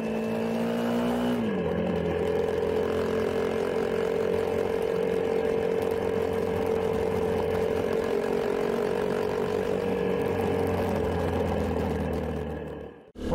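A 2020 KTM 250 EXC-F dirt bike engine revs loud and close on a muddy lane, its pitch rising as it pulls away and holding a steady high drone, then cutting off at the end.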